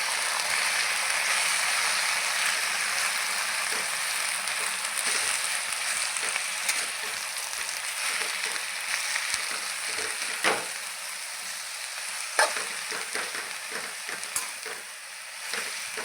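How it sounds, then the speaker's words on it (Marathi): Fenugreek leaves sautéing in oil in a pan give a steady, close sizzle and hiss throughout, with occasional soft clicks and scrapes of a spatula stirring the greens. "आता ही भाजी तेलामध्ये अशी परतून घ्यायची"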